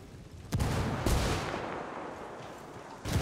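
Grenade blasts in the shooter game Ghost Recon Wildlands: loud, heavy booms with a sharp onset near the start, a second burst a moment later, a long rumbling tail, then another hit at the end.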